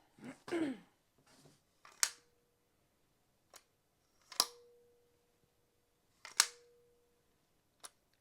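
Sharp, isolated clicks and snaps of a rifle optic being fitted onto its mount, several crisp metallic ticks spaced apart, close and clear with no talking.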